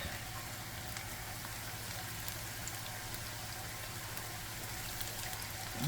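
Chicken pieces for sweet and sour chicken frying in a pan, a constant faint crackling sizzle with no talk.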